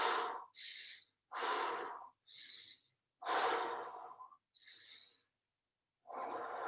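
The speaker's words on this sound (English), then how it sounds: "And gradually lengthen out your breathing." Slow, deep human breathing during a relaxation exercise, close and clear: long airy inhales alternate with softer, shorter exhales over several full cycles, separated by brief silent pauses.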